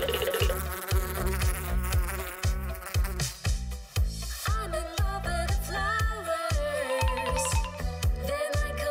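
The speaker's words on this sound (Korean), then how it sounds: "엄청 큰 벌이다." A very big cartoon bee buzzing loudly and continuously, with a wavering nasal whine over busy cartoon music that has a thumping beat, and no talk.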